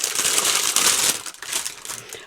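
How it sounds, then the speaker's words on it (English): Cellophane packaging rustles and crinkles close up as a new product for epoxy resin work is unwrapped, with loud, irregular crackling bursts and no speech. "a lot of foil rustling, cellophane rather rustling down here"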